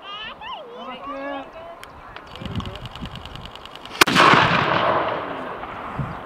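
A historic cannon fired by a re-enactment gun crew at the Dunkeld and Birnam Jubilee 2022 gives one sharp blast, followed by a long rumbling roar. Before it, a voice and other people talk in the open air.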